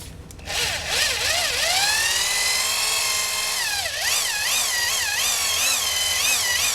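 A drill spins a Harbor Freight buffing pad against a motorcycle brake disc, giving a loud, steady high-pitched whine that rises and dips as pressure and speed shift. It runs without pause and no one talks.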